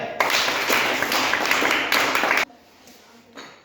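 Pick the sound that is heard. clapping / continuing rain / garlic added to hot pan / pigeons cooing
clapping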